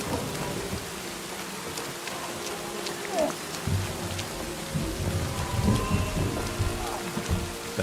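Steady rain pours across the scene in Kingdom Come: Deliverance 2, with a low rumble of thunder rolling beneath the constant patter of drops.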